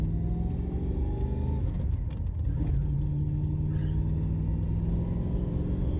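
Low rumbling drone of a manual V8 Holden VS SS sedan on the move, steady engine and road noise heard from inside the car with a brief shift in pitch midway.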